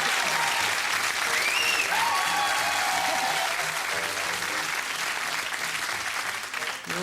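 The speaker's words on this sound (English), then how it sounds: "You won't be applauding like that when it's over." A studio audience at a TV chat show claps warmly in a sustained, dense burst, fading slightly at the end, with someone speaking faintly over it.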